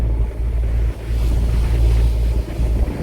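Strong wind and large ocean waves buffet a moving fishing boat running at about 40 kph in rough seas, a steady loud low roar of wind and water rushing past with no pauses.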